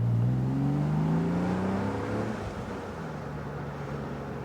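BMW E36 straight-six engine revving inside the car as it pulls hard, a loud climbing drone that eases off into a lower steady hum.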